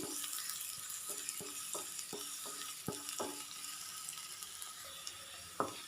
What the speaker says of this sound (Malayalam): ചെറിയുള്ളി നന്നായിട്ട് മൂത്ത് വരുന്നുണ്ട് കേട്ടോ